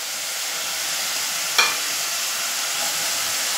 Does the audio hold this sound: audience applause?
no